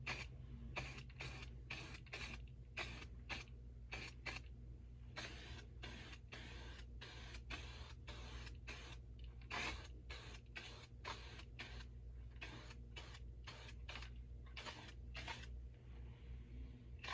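Spray paint can spraying a coat of color onto Farmall C tractor seat parts with a fan-pattern nozzle, heard as a long series of short, close hissing bursts in steady rhythm over a low constant hum.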